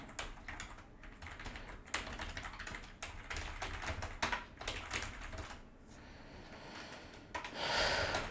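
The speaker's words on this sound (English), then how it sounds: "I have just typed the some content here for sample." Rapid typing on a laptop or desktop computer keyboard, close and fairly quiet, with irregular bursts of key clicks and brief pauses, plus a louder rustle near the end.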